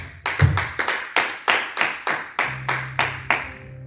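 A church congregation claps in unison, about a dozen sharp, evenly spaced hand claps in a steady rhythm, fairly close and loud, with a faint low hum underneath toward the end.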